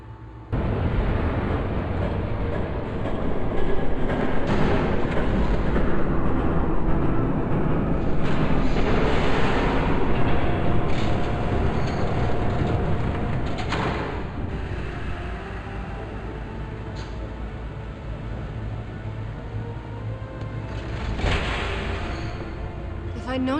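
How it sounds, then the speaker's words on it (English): A heavy, continuous rumbling roar of an approaching train in the video game Batman: The Telltale Series swells and then eases slightly, with occasional sharper bursts over the din. "There's a train coming."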